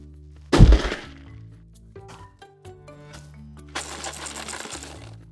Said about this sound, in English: Same rattle as before.